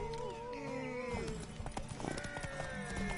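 Horse hooves clip-clopping in The Witcher 3 video game, a rhythmic clatter of steps beneath a tonal game soundtrack and other in-game noises, moderately close.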